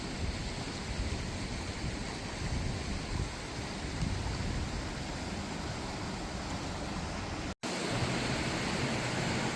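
Steady, loud rushing water of a stream swollen with rain and snowmelt fills the scene with a dense, continuous roar, briefly cut by a short gap of silence near the end.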